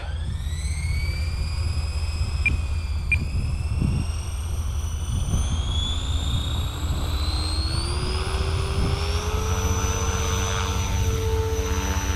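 A Blade 500 3D RC helicopter whirs steadily close by, its rotor and motor whine climbing gradually in pitch over a constant low rumble, with a couple of brief sharp clicks partway through.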